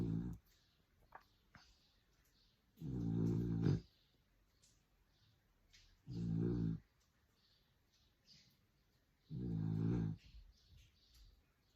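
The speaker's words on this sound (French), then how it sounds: "le chien qui ronfle" A dog snores in slow, regular rhythm: three loud, rumbling drawn-out snores separated by quiet pauses with soft breathing.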